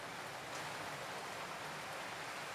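Steady rain falls outside as an even, continuous hiss with no distinct drops standing out, faint and constant throughout.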